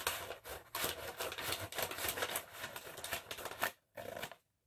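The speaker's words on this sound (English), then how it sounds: "cutting through one layer only, I will cut along that line" Scissors slicing through a single layer of a brown paper bag, a steady run of crisp, close snipping and crinkling strokes with short pauses near the end.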